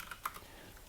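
Brief keyboard typing, a couple of quick key presses on a computer keyboard during a coding session, faint and close with no talking.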